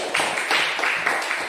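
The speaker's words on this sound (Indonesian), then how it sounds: "Give applause for group 2." A classroom gives group 2 a round of applause: a brisk crowd of hands clapping in quick uneven bursts, fairly close and lively, lasting under two seconds.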